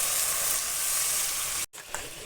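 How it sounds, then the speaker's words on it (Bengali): Water poured into hot frying masala of green chili, ginger-garlic paste, chili and turmeric for fish head curry, a steady loud sizzle and hiss that cuts off sharply, then a quieter bubbling sizzle resumes. "মশলা রেডি হয়ে গেছে, এবার জল দিয়ে দিচ্ছি।"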